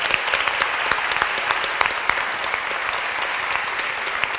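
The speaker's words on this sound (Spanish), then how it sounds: "Un aplauso para el Padre Jorge y para todos." A church congregation at a parish nativity scene event applauds Padre Jorge, giving steady, even clapping from many hands for several seconds with no talk over it.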